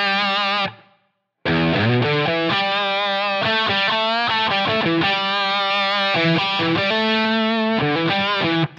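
An electric guitar plays a chord-driven riff through a Boss HM-2 Heavy Metal distortion tone modelled on a Line 6 Helix, thick and heavily distorted, loud and sustained, with a brief silent gap near the start.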